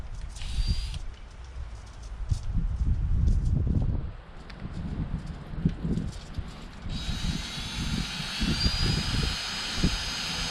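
A power drill bores a pilot hole while a Harley-Davidson Tour-Pak rack is being installed, producing a rough, fluctuating whirring grind that keeps going for about ten seconds with uneven surges, close by and moderately loud.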